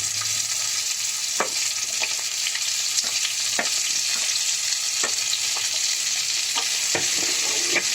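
Sweet potato, pumpkin, eggplant and beans frying together in oil, a loud continuous sizzle with occasional spatula scrapes across the pan, close by and without speech.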